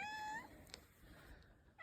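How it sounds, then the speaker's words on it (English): A pet cabin cat traveling with its owners gives one short, close meow right at the start, followed by quiet room ambience. "You being a cabin cat? Yeah, traveling cabin cat."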